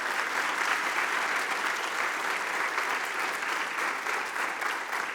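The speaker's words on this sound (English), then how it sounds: "Can we give him and the school board a round of applause?" Sustained audience applause at a high school spring choir concert in a performing arts center, a steady, dense wash of clapping from a large crowd that holds evenly for several seconds.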